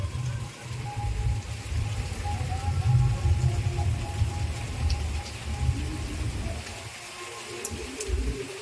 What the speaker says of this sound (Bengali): ভালো ধরনের বৃষ্টি হচ্ছে, যেটা মুসুলধারে ওটা নয়, কিন্তু বৃষ্টিটা হচ্ছে